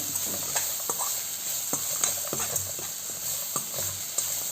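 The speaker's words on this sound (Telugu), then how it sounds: "ఏదైతే మనం గ్రైండ్ చేసుకున్నామో దాన్ని వేసి ఫ్రై చేసుకుంటున్నానండి" Ground curry leaf paste fries in hot oil with a steady sizzle and hiss, while a spoon scrapes and stirs the pan in repeated clinks and scuffs.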